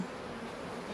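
Honey bees from an opened hive colony buzzing steadily, a dense continuous drone held close and even throughout the brief moment without any talk.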